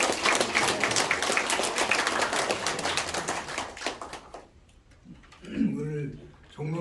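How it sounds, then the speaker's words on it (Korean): Applause from the audience at a senior citizens' association general meeting, dense clapping that fills the first four seconds, thins out, and gives way to a voice speaking. "우리 구청장님 크게 큰 박수로 맞이해 주시기 바랍니다"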